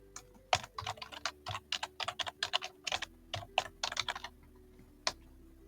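Rapid bursts of typing on a computer keyboard, irregular clusters of clicks and keystrokes over about five seconds, close and fairly crisp with a low steady hum underneath and no voices.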